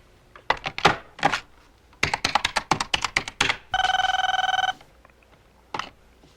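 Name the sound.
telephone ringing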